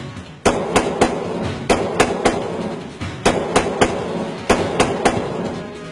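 Armed young men fire guns into the air near the forest in Kokrajar, Assam. The shots come as loud, sharp cracks in quick clusters of three or four, repeating several times over a few seconds, with no voices.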